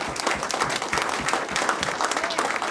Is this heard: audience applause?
yes